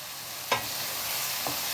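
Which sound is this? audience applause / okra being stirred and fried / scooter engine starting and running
okra being stirred and fried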